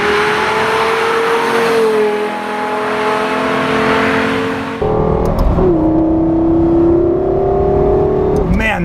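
A Lexus LFA supercar engine revs hard while driving, its high, sharp tone climbing, dropping as it shifts, then climbing again.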